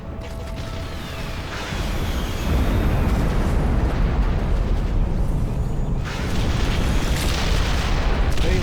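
Bombers destroy the hacked Nexus in the strategy game Ashes of the Singularity, setting off a dense, continuous roar of heavy explosions. The booming rumble builds after the first couple of seconds and stays loud throughout.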